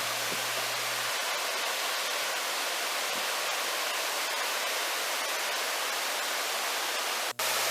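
Water pours down the lower tier of Deungnyong Falls, a two-tiered waterfall on Myeongseongsan in Pocheon. It makes a steady, even rush of broadband noise from nearby, with no voices.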